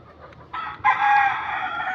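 A rooster on a backyard poultry farm gives one loud, close crow that begins about a second in and holds to the end, after a few faint clucks.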